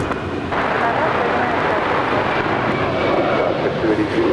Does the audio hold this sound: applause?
no